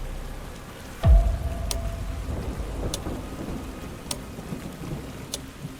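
A rainstorm with a sudden close thunderclap early on, followed by a deep rumble. Steady rain patters on surfaces throughout, with scattered sharp drops, and no voices.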